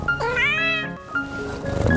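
A house cat gives a loud, close, drawn-out rising meow, followed by a shorter second call, heard alone indoors.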